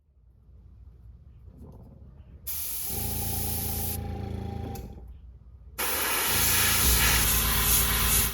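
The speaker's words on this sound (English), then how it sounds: "I tried to keep most of the airbrush on the stencil so the remnants of the spray can create the shape." Airbrush spraying paint over a painter-tape and index-card stencil while painting a crayfish-pattern bass fishing lure: a steady close hiss in two long bursts with a short pause between, no voices.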